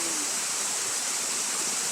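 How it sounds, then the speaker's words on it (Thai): Waterfall at Tat Hong Nam Suea pours in a steady, dense rush of falling water, a continuous broadband roar close by with no pauses and no voices. "เป็นน้ำตกตาดห้องน้ำเสือ"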